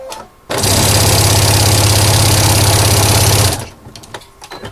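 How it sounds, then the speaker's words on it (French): A sewing machine stitches a seam on a fabric notebook cover, a loud, fast, even mechanical whirr that starts abruptly, runs steadily for about three seconds and stops, with faint handling noises before and after. "je rejoins la piqûre qui a démarré ici et je la chevauche sur quelques points pour être sûr que ce soit raccord"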